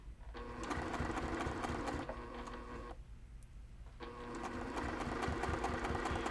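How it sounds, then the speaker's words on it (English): Sewing machine stitching ric rac down the center of a small cross stitch pillow, running slow and steady in two bursts with a brief pause between, fairly quiet and close. "I'm just gonna stitch right in the center."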